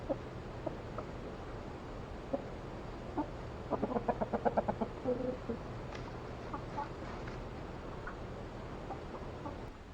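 Chickens clucking on a farm at a spring nature festival, with a brief run of rapid rhythmic clucks in the middle and scattered softer calls around it, moderately close over a steady background hum.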